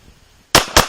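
Two loud, close pistol shots ring out in quick succession during a 3-gun pistol drill, each a sharp crack after brief quiet.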